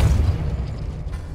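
A Depulso spell blast in the video game Hogwarts Legacy lands as a short, heavy, low boom that decays over a second and stands alone without talk.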